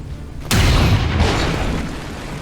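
A single heavy shot fired at an Andromedon in the video game XCOM, one loud booming blast with a long rumbling tail, alone without talk.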